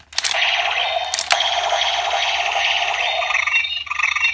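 Electronic sound effects from a Kamen Rider Kabuto CSM Hopper Zecter transformation belt toy: a couple of short bouncy hopping clicks followed by a continuous warbling, croaking cry that runs loud and steady to the end.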